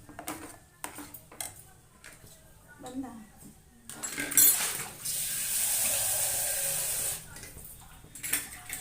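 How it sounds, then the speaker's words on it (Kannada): Water pours steadily into a pan for a few seconds after some clinks of utensils, with a voice talking before and after. "ನೀರು ಸೇರಿಸ್ಬಿಟ್ಟು ಸ್ವಲ್ಪ ಕುದಿಯಕ್ಕೆ ಬಿಡೋಣ"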